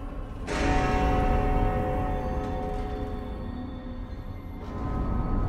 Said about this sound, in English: Oh, the big bell's ringing.